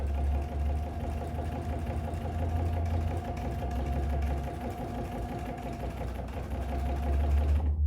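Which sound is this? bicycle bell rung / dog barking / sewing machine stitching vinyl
sewing machine stitching vinyl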